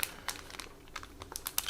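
A small plastic bag holding sprues from a 1:72 scale AZ Model Heinkel He 162 kit crinkles and rustles up close, with quiet irregular crackles.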